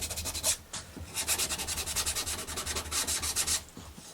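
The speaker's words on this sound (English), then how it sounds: "I'll use their included sandpaper" Wood on a small book nook cabin model is sanded by hand with an emery board, giving close, steady back-and-forth rasping strokes in a quick repeating rhythm.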